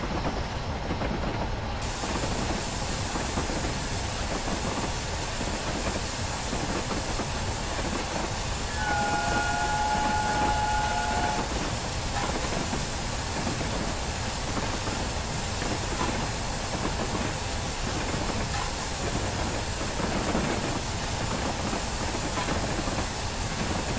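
The Flying Scotsman steam train runs with a continuous loud rumble and hiss, carrying on steadily throughout, with a faint tonal whine rising briefly in the middle.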